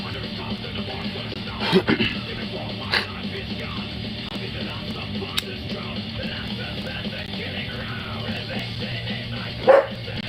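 A dog barks a few times at a distance, faint sharp yelps spread out over a steady low background hum.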